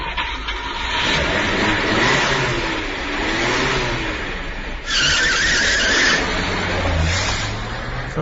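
A stolen car speeds away in an audio-drama chase, its engine revving loudly and steadily with a rising whine and bursts of tire squeal near the end, no voices over it.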